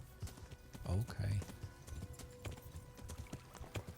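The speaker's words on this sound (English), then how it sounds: "Come on, horse. Run for it. Go faster." Horse hooves galloping in the medieval RPG Kingdom Come: Deliverance, a steady rhythmic clip-clop under a voice urging the horse on, with a brief whinny-like snort in the middle.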